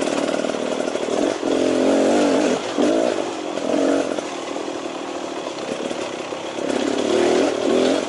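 A 2018 Beta Xtrainer 300 two-stroke dirt bike putting along in third gear, its engine droning loud and near with uneven throttle swells and dips.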